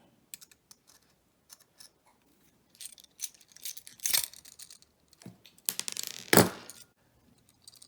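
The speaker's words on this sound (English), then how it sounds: "I'm just going to take a pair of pliers here and just pop each one off, just like that" Pliers snap the breakaway tabs off a DIY four-plug electrical outlet, giving scattered small metallic clicks and brief cracking snaps, sparse at first, then denser bursts of clatter and rustling, close and fairly quiet.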